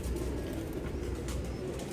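A single pet pigeon coos in a steady, low, continuous drone, close and fairly quiet, with no voices over it.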